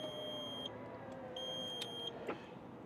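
Electronic parking brake button in a custom 1966 Ford Mustang giving high-pitched beeps, two sustained tones separated by a pause, faint over a low background hum with a small click.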